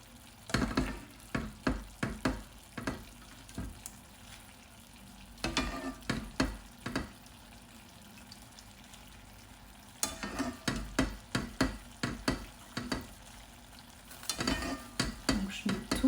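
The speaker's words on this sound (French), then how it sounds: "Je les mets directement dans ma sauce." Cooked pasta is stirred into a sauce still sizzling in a pan, making steady frying hiss with bursts of scraping, clattering stirring strokes coming and going close by, and no voices.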